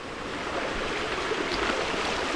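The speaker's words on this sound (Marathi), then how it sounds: "असं इकडून असं पाणी जातं ते खाली." Water runs down inside a flooded quarry, making a steady, fairly close rushing flow with no pauses.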